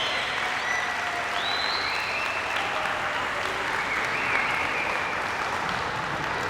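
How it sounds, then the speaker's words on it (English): Steady round of applause from parents and teachers at an elementary school pre-K celebration, dense and continuous clapping filling the room throughout. "let's have all the parents and all the teachers give these students a round of applause here"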